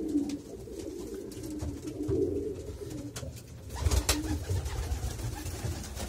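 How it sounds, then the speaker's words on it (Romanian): Van de Pool pigeons coo in a loft box, their soft, repeated throaty calls close by over a low background murmur. "Și acești porumbei se află la boxa 27"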